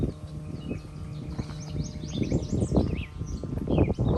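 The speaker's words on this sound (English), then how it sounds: "Hear the birds, guys?" Birds chirp and call in trees beside a damp, muddy footpath on a nature walk in a Toronto park, their twittering scattered high over rustling footsteps and low outdoor noise, fairly close and continuous.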